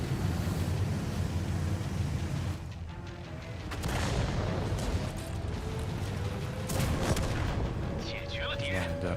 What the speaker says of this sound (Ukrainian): Арта.